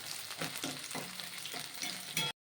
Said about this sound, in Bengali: এগুলো সমস্ত আমি হালকা করে ভেজে নেবো